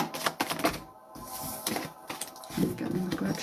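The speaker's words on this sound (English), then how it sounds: "getting a good shuffle." Tarot cards shuffled by hand in quick riffling bursts of crisp, rapid clicking and flicking, close by, with short pauses between runs.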